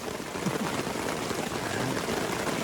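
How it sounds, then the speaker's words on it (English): Hail pelting a backpacking camp in the Colorado mountains on a hot day, a dense, steady hiss of pellets striking tents and ground throughout, close and fairly loud with no pause. "80 degrees and now there's hail."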